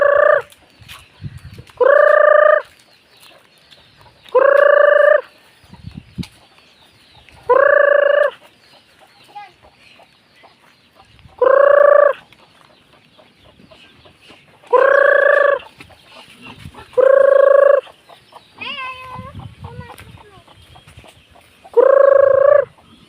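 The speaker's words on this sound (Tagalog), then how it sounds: "magtatawag na tayo ng mga alagang manok" Chickens cluck loudly in regular bursts every couple of seconds, close by, with quiet gaps and faint rustling between calls.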